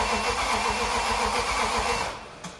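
A BMW E38's engine turns over and catches, then runs at a rough, loud idle right up close before the sound drops off slightly near the end.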